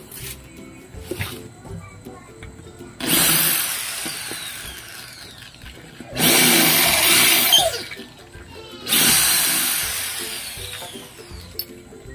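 A power drill bores out a hole in a metal tank for a used-oil stove, three separate bursts of loud, harsh whining grinding, each lasting about two seconds, with quieter workshop sounds between.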